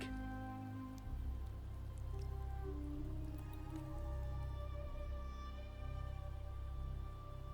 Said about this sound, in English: The rain is passing. I hear it ceasing its symphony upon the earth.